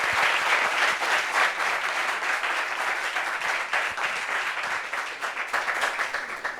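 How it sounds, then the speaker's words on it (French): Audience applause at a talk-show gathering, steady dense clapping from a crowd, loud and sustained throughout, tapering slightly near the end. "Donc applaudissements pour valider"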